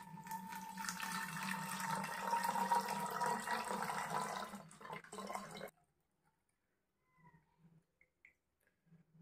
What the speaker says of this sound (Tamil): கொஞ்சம் வாட்டர் டாப் அப் பண்ணிக்கிறோம்